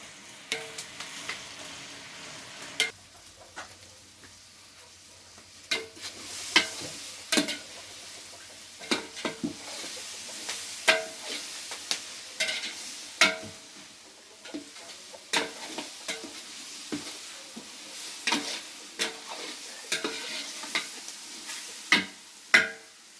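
Sliced onions fry with cinnamon, cloves and cardamom in a pan, a soft hiss under repeated clacking stirs of a spoon against the metal, close and irregular.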